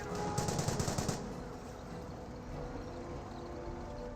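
Rapid bursts of small-arms and machine-gun fire from Panzer Grenadier infantry in a Company of Heroes 1 battle. The fire rattles loudly for about a second, then gives way to a dense, steady backdrop of distant battle noise.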